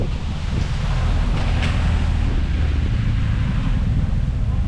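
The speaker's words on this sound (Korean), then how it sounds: "바람이 너무 많이 불고 배 뜰 수 있을라나?" Strong wind blowing across a ferry deck in Italy, a steady loud roar buffeting the microphone with a faint rush of sea beneath it, continuous throughout with no talk.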